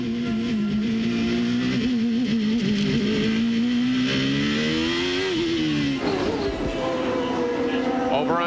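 IndyCar race car engine at the 1993 Long Beach Grand Prix street race, a loud sustained high-pitched whine rising and falling as it shifts through gears, with a commentator's voice over it.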